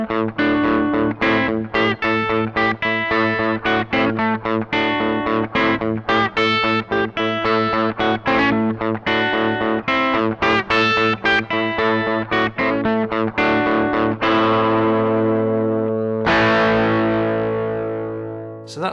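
A distorted electric guitar plays a riff, chugging and rhythmic with short repeated chords, then finishes on a long ringing chord that fades out.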